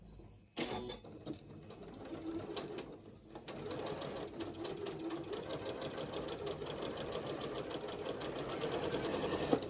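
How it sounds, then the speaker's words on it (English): A home sewing machine stitches two 5/8-inch garment seams, its steady rapid needle chatter running close and continuous after a brief start, with a short pause near the beginning. "you're going to sew up these two seams at"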